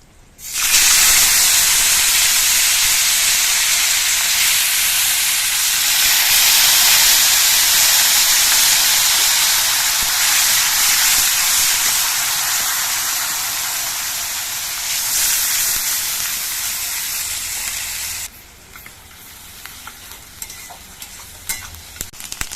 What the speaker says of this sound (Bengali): এবার আমি দিয়ে দিচ্ছি পেঁয়াজ বাটা।